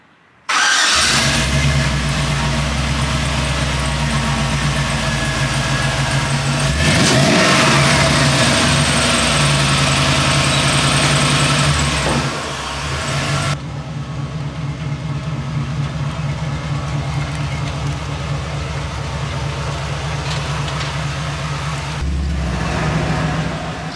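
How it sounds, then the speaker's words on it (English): A Chevrolet C10 truck engine starts and runs steadily, a loud, close rumbling idle with a brief rev partway through, continuous for the whole stretch with no talking. "So the truck's running great"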